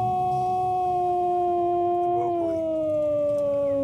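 A Harrison Instruments Model 302 theremin sustains a loud, steady, brassy tone rich in harmonics, its pitch sliding slightly downward near the end, with no voices over it.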